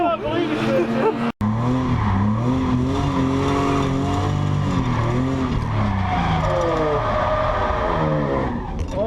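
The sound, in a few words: car drifting with tire squeal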